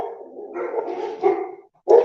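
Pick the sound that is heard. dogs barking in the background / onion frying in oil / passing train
dogs barking in the background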